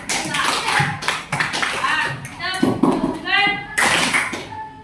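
Fifth-grade pupils at SDN Petapan 1 elementary school clap once each on cue, several crisp group claps breaking out between children's and a teacher's voices in the classroom.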